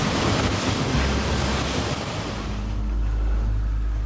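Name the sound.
waves churned by an icebreaker ship's bow and propellers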